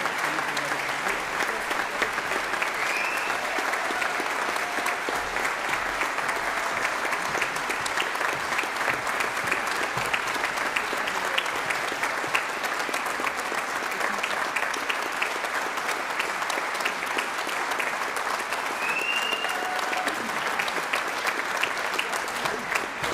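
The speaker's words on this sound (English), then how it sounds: "a huge round of applause for their efforts this morning" A large audience at a brass band championship results ceremony claps loudly and steadily, a dense unbroken roar of applause with no speech over it.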